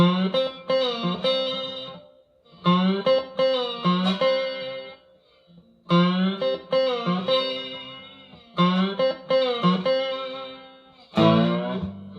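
Cigar box guitar slide phrases played in quick bursts with twangy, gliding notes, separated by short silences; bright, distorted tone close up.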